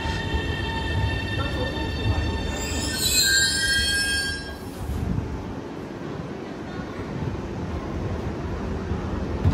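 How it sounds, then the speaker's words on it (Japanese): A Shanghai Metro train pulls into the station, wheels squealing in a loud, high sustained screech over the low rumble of the cars, then settling into steady rolling noise and platform ambience. "ちょっと電車が来ました。"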